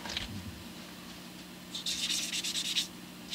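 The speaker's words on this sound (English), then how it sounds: "Now I'm playing with wet sandpaper." Wet sandpaper rubbed over a guitar finish during repair, a few short strokes of soft close scraping, the last burst of rapid back-and-forth rubbing louder than the first, with no talk.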